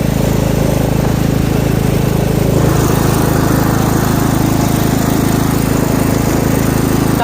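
A small lawn tractor engine drones steadily and loudly up close, an unbroken, even motor roar with no pauses or talk.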